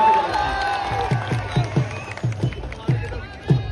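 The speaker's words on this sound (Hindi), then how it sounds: "ताली मारियो तो" A crowd at a women's wrestling dangal in Bageshwar claps in a steady rhythm, a run of sharp, evenly spaced beats over a dense murmur of voices and talk.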